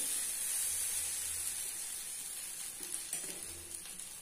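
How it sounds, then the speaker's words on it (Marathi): A sweet fasting dosa (pancake) sizzles softly on a hot pan as it is turned over to cook the other side, a steady faint hiss with a few light scraping touches near the end. "तो दुसऱ्या साईडने मी आता परतून घेते"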